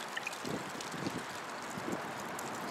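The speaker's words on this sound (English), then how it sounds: "because the air is windy, so that's why, you know, it's kind of a windy day" Wind buffets a microphone outdoors on a windy day in a parking lot at a military base, a continuous rough rushing with low thumps of gusts, no talking.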